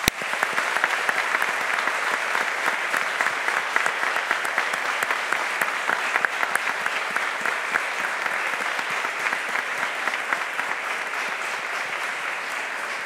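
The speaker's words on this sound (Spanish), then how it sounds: "Aplaudamos este logro." Sustained applause fills the hall at a lawyers' swearing-in ceremony before the Supreme Court, a steady, dense clapping from a large audience holding even for about thirteen seconds without a break.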